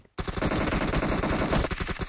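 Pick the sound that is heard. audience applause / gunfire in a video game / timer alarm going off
gunfire in a video game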